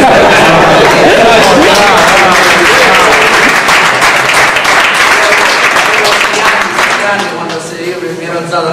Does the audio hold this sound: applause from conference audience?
yes